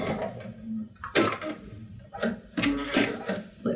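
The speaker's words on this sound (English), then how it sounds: "I like to just overstitch it, and then straight to the end, just as though you were sewing your regular sash piece on" Sewing machine stitching a quilt seam, overstitching then running straight to the end; soft intermittent mechanical whirring in short bursts with pauses, fairly quiet.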